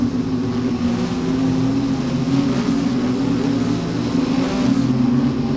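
A race car engine in a racing video game at Spa drones loudly and steadily, its low hum holding nearly constant as the car slows for the chicane.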